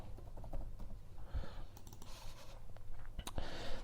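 Steady typing on a computer keyboard during a GIS software tutorial, a run of light, quick key clicks at close range with a few sharper taps, alone without talk.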